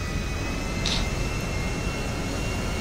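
Airplane engine in the video game GTA Online: a steady, unbroken jet-like roar that fills the whole stretch at an even level, with no talk over it.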